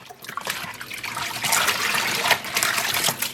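Water running and splashing into a yarn-dyeing bath as dish soap is added, a steady close trickle and gush that swells louder midway and continues without talk.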